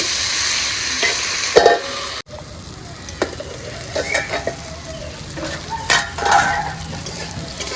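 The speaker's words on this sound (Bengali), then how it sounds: "দেখুন আলুগুলা একটু ভাজা হয়ে গেছে একটু রঙও ধরেছে কিন্তু আর একটু ভাজতে হবে" Potatoes frying in a pan for a Bengali aloo tangra dish, with a steady sizzle and several bursts of stirring and scraping, close and fairly loud, with no talk.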